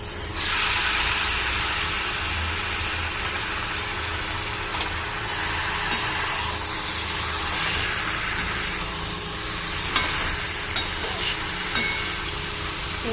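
Taro leaves (kochu shak) frying in a pan with turmeric, a steady close sizzle and hiss held for about thirteen seconds, with a few faint scrapes from stirring.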